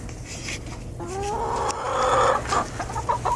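Backyard chickens cluck and squawk nearby in a yard, a rising drawn-out call standing out midway over steady low background noise, with no talk.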